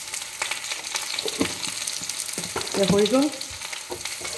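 Pieces of green banana fry in hot oil in a pan, sizzling and crackling continuously at close range while someone speaks briefly over the cooking.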